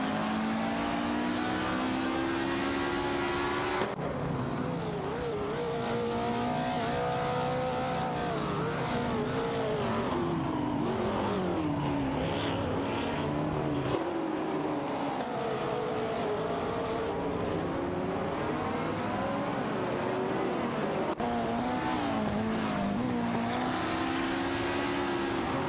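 Video game race cars, including a Nissan R300 and a Porsche 906, racing with engines droning and revving continuously, the pitch rising and falling through gear changes and corners, with occasional faint tire squeal.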